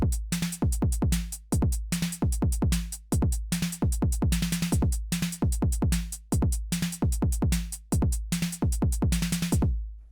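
A programmed electronic drum pattern with kick and snare hits repeats in tight, evenly spaced bars of rapid sixteenth-note bursts, each hit sharp and decaying, loud and dry with no voices.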